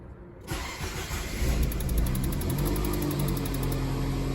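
A Nissan Tiida's engine cranks and catches after a brief quiet start, then settles into a steady, close idle hum.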